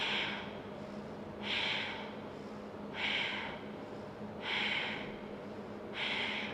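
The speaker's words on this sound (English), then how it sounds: "Begin to find a faster breath." Fast, rhythmic breaths during a power yoga session, five strong hissing exhales or inhales evenly spaced about every second and a half, close and clear with no talking over them.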